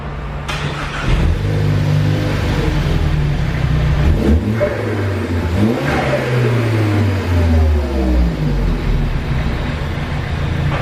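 A car engine cranks and catches near the start, then revs repeatedly, its pitch climbing and falling in loud, close surges, with no talk.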